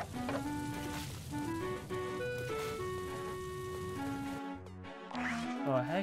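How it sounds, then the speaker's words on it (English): Rain in the Bug Fables video game, a soft steady patter under melodic game music with shifting tones, and a voice briefly speaking near the end. "That rain."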